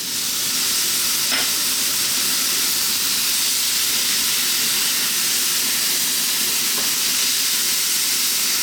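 Dark soy sauce going into a hot pan of sizzling mushroom fried rice, a loud, steady frying hiss that fills the whole stretch with no talk.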